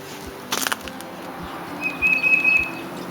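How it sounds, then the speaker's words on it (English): Garden birds near a feeder and bird bath give a few faint chirps and one thin sustained whistle against quiet outdoor background, with a short burst of flapping or rustling early on. "And we can watch the birds."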